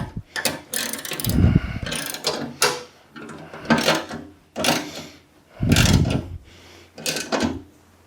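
Bolts on Kubota BX tractor side shoes are tightened with a ratchet, giving repeated close bursts of rapid clicking separated by short pauses.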